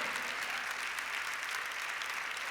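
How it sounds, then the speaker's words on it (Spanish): A congregation at a Spanish-language church service claps for the Lord, a steady wash of many hands clapping together, sustained and even from start to end without any speaking over it. "Dale un fuerte aplauso al Señor"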